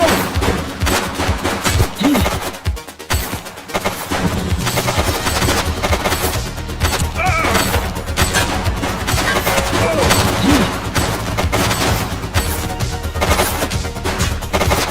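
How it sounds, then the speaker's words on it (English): Gunfire in the police video game The Precinct, a loud, dense fusillade of rapid shots and bursts that continues almost without pause, close and dominant throughout. "He's shooting!"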